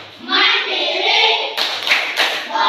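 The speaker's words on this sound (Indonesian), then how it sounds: "kita akan bertepuk PPK" A classroom of children clapping along in a rhythmic class chant, with voices chanting together at first, then a few sharp, loud clap bursts close by.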